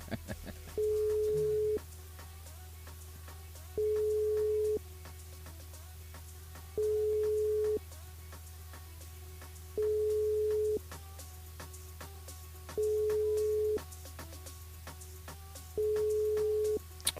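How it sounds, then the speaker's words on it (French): Telephone ringback tone during a live radio call-in draw, repeating six times at steady two-second intervals with pauses between, clear and alone over a low hum, unanswered. "Bon ben ça sonne, ça répond pas"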